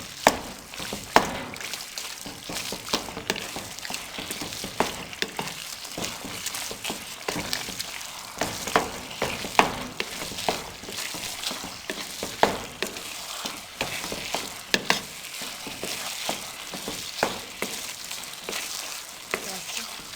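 Half a kilo of semolina roasts in a pan over a low flame, a soft continuous sizzle broken by frequent spoon scrapes and taps in an irregular rhythm, close by, with faint voices at moments.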